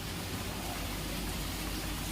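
Steady rain falls over an outdoor market street where vegetable sellers are out, a constant close hiss with no gaps and no voices.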